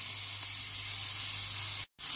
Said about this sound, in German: 5-6 Minuten lang schön anbraten